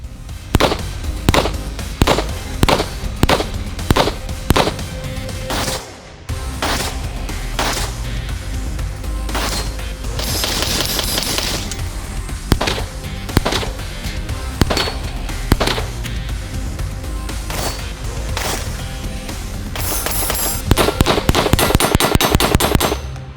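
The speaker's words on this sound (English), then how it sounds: "So we'll run some rounds through it and see what we think." FN Five-SeveN MK3 pistol firing, a long series of loud sharp shots, mostly single evenly paced reports in strings with short pauses, close to the shooter and without talk.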